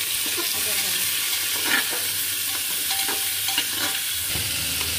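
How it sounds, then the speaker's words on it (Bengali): Potatoes and raw onion frying in a pan for a Bengali chicken curry, a steady hissing sizzle with intermittent stirring scrapes and spatula taps, close and moderately loud without speech. "কাঁচা পেঁয়াজের সাথে আলুটা ভাজা হবে, কাঁচা পেঁয়াজটা ভাজা হবে"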